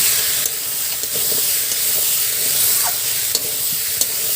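Prawns that were fried earlier sizzle as they go into raw jackfruit curry sautéing in a pan. A steady, fairly close frying hiss carries a few faint clicks of stirring, and there is no talking.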